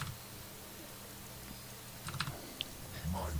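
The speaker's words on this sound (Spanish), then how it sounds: "tap en tabulador y ya lo tengo aquí." A computer keyboard clicks softly in a quiet room during Dota 2 play, with a brief cluster of key taps followed by a single sharp click, all faint and close.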